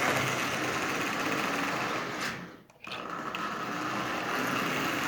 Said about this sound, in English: that double reduction motor is up and running